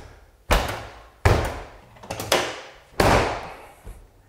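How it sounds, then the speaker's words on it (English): Nissan Pathfinder door slammed shut repeatedly, four or five loud close thuds with metallic rattle, each decaying before the next. "you having to like slam the door most of the time"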